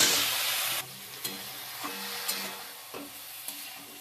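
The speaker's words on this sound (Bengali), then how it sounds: "এবার আমি বেগুন আর আলু ভাজাটা দিয়ে দিচ্ছি।" Fried eggplant and potato pieces tipped into a pan of sizzling oil and stirred, giving a steady frying hiss broken by several soft scraping clicks of the spatula, with no talking.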